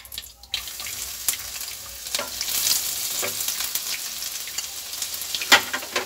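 Chopped garlic hits hot oil in a pan for chilli paneer and sizzles steadily, with a few stirring clatters and a sharp spatter near the end, close and fairly loud.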